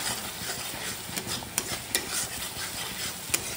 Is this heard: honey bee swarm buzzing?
no